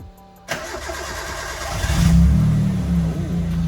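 A Toyota AE86 Sprinter with its 4AGE engine cranks briefly after a quiet moment, catches and fires up, then settles into a strong, close, steady idle at elevated revs.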